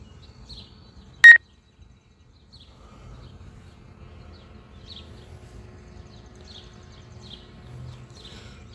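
A single short electronic beep sounds once, sharp and clear, then quiet with faint background rustling and soft chirps.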